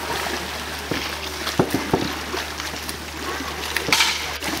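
Sea lions splashing and sloshing in a zoo pool after feeding, a steady wash of water with a few sharper splashes standing out, fairly close and continuous.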